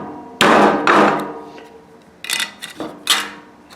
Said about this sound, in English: Can't be talking while I'm hammering.